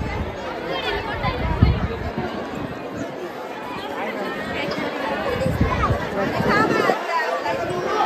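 A busy hubbub of many voices fills the waiting line at Jejuri temple, a constant babble of overlapping chatter with occasional nearer voices and shuffling movement rising above it.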